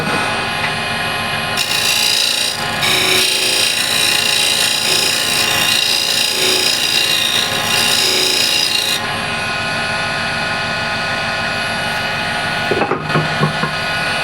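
A walnut burl box turns on a wood lathe while a tool cuts into it, a loud, continuous rasping scrape with a steady motor hum. The cut pauses briefly, then resumes and drops away near the end.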